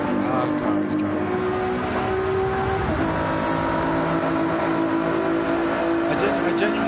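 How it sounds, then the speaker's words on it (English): A race car drives during a 12-hour race, its engine droning steadily and shifting in pitch as it accelerates, filling the whole stretch without a break. "Car is driving."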